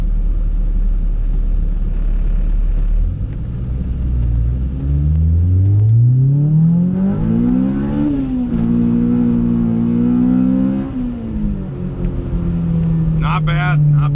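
A turbocharged Honda Type R EK accelerates hard in first gear on a wet road, engine note climbing steadily in pitch over several seconds before easing off, loud and close from inside the car, with voices talking over it.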